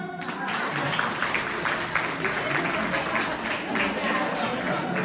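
A church congregation applauds together in a steady, dense wash of clapping that fills the room for several seconds, with a few voices mixed in underneath.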